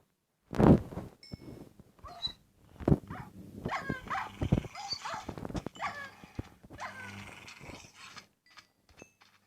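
Several sharp dog barks and snarls mixed with clattering mechanical clicks and impacts, a busy burst of Minecraft attack sounds with no talking.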